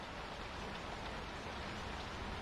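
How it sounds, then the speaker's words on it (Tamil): Steady rain pours down in a continuous, even hiss of drops striking surfaces, close and unbroken throughout, with no voices. "மழை நிற்கிற மாதிரி தெரியல"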